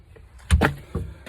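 A car door slams shut once on a bright December day, a sharp close thud followed by a softer knock, then quiet.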